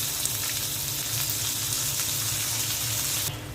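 Prawns frying in a pan give off a continuous, close, even sizzle with a low bubbling undertone, steady for the whole few seconds without any talk.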